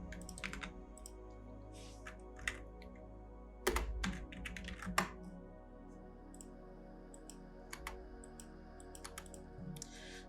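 Typing on a computer keyboard while building a fashion tech pack in Audaces Idea, heard as quiet, close key clicks in short irregular bursts with pauses, plus a few louder clicks.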